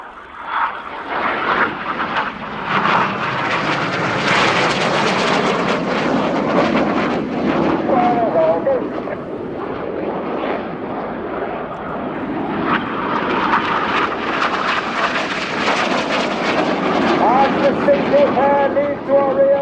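Royal Air Force Red Arrows jets roaring through an aerobatic display at RIAT 2025 in England, a loud continuous engine rumble that swells and fades as the aircraft pass, heard alone for nearly twenty seconds.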